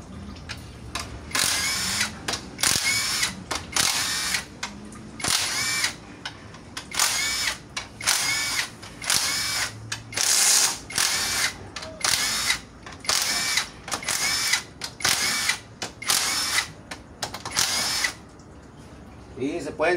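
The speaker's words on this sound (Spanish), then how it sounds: "Vamos a dar una recia a todos los tornillos de la caja de válvulas." Power drill tightening the valve body screws on a Chevrolet 4L65 transmission, about a dozen short whirring bursts in an irregular rhythm, close and loud, with someone talking between some of them.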